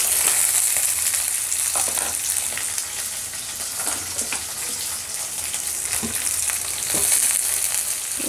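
Onion and green chili pieces fry in hot oil with a loud, continuous crackling sizzle and occasional stirring clicks.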